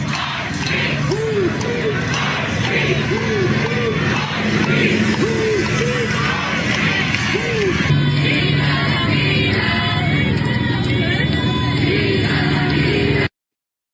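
A large crowd of protesters at a Los Angeles street protest: a dense, steady roar of many voices with recurring shouts and yells rising above the din, loud and continuous throughout.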